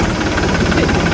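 A new tractor's engine runs with a loud, close, knocking diesel rumble that pulses evenly through the short stretch.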